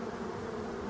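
Honeybees buzz steadily and close by at a hive entrance, a continuous insect drone with no pauses.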